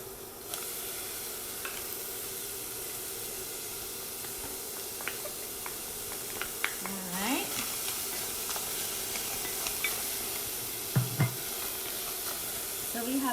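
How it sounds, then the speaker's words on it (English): Peppers and onions for asopao sizzle steadily in a hot pan, a constant close hiss broken by scraping stir strokes and a few clinks, with no one talking. "I'm gonna add the peppers."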